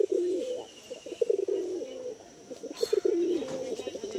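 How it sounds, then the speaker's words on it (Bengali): Andhra pigeons in a loft coo close by in repeated soft, rolling phrases, with a faint chirp and a brief rustle between the calls. "পায়রাগুলোর খুব ভালো জেনারেশন থেকে বিলং করা পায়রা।"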